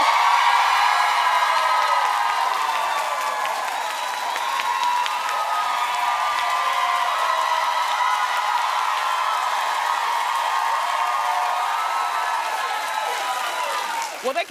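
A television talk show studio audience claps and cheers continuously, a dense loud wash of applause with whoops that holds steady before tapering at the end.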